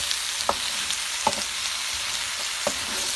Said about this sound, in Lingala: toza kaka kokalinga loso na biso